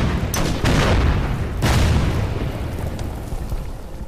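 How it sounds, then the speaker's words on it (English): Artillery shells burst in a video game strategy battle, with several heavy booms and rumbling blasts in quick succession, loud and close, each decaying into a low rolling tail. "Okay, they got artillery up here."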